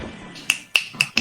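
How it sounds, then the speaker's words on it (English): Four crisp finger snaps in an uneven rhythm, close and clear over a faint background hum. "I'm snapping my fingers"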